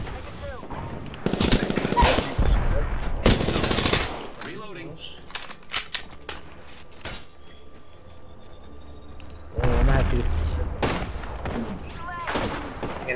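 Bursts of automatic weapon fire and heavy explosions in the video game Apex Legends, loud and close, alternating with quieter stretches of scattered shots and a player's voice.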